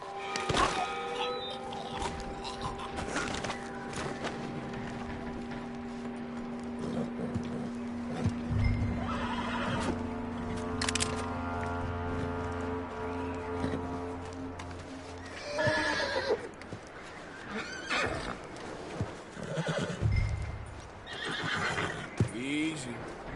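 A horse in the Red Dead Redemption 2 video game whinnies loudly several times and its hooves clop, with voices speaking over and between the neighs.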